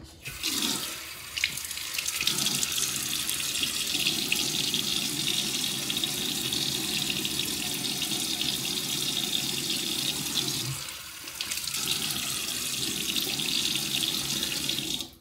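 A tap runs steadily into a sink while a face is wetted for shaving, a loud, continuous splashing stream with a couple of brief dips as hands move under the flow.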